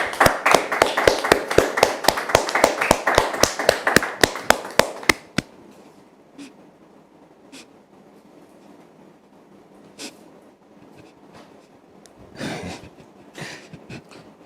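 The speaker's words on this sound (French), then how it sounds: "merci de le recevoir sous vos applaudissements" Audience claps to welcome a guest, a brisk, fairly even run of individual claps from a small group, close and distinct, ending abruptly after about five seconds and followed by quiet room sound with a few scattered sounds.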